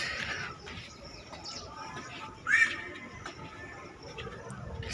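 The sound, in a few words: birds chirping in the morning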